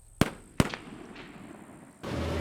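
Two sharp artillery blasts from the PC tank game Gunner HEAT PC, close and loud a fraction of a second apart, followed by a quiet rumbling tail and then a steady low engine-like drone.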